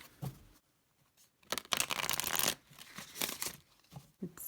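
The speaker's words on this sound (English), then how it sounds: "I'll go ahead and shuffle this just to show you how it shuffles." A Wild Goddess Oracle card deck being shuffled, giving bursts of papery riffling and card flutter separated by short pauses, close and moderately loud with no talking.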